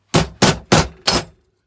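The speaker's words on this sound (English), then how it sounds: "Bit of hammering." Four sharp hammer blows land in an even rhythm, each a loud, close, ringing knock that fades quickly before the next.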